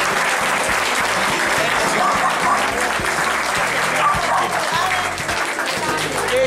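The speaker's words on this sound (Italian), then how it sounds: "Quindi un applauso al direttivo." Loud, dense applause from a crowd at a gathering at the Visconteo castle in Legnano fills the whole stretch, a steady roar of clapping with some voices mixed in.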